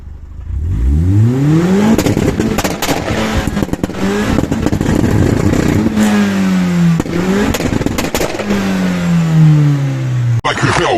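A modified Vauxhall Corsa VXR engine revs hard and accelerates through several rising pulls, loud and close, with pitch sweeping up and dropping between gear changes.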